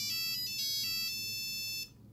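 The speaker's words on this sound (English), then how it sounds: "when the phone starts ringing, I'll show you guys" A Nokia 3410 mobile phone plays its ringtone, a bright, buzzy electronic melody of short repeated notes that rings steadily for almost two seconds before cutting off, with no voices over it.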